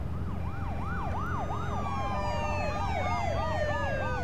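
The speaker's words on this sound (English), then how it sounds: "look at all the police cars" Police car sirens wail in The Walking Dead video game, several overlapping rising-and-falling tones cycling steadily at moderate distance over a low background rumble.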